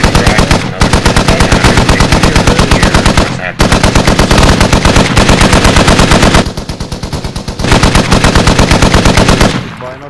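A .50 caliber machine gun in the Squad video game fires long, very loud sustained bursts in a fast steady rhythm, dominating the sound with only short pauses between strings of shots.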